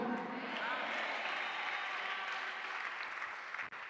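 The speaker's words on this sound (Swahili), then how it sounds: "Hayo makofi machache sana." Church congregation applauding during a gospel sermon, a steady moderate wash of clapping from a crowd that holds evenly for several seconds before tapering off.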